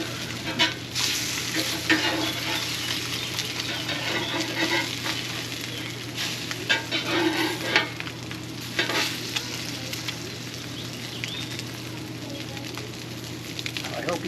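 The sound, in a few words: eggs frying in a pan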